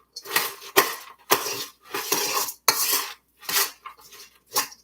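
A metal spoon mixes beans, scallions, corn and chilies in a bowl, scraping and clinking in loud, close bursts with short pauses between strokes.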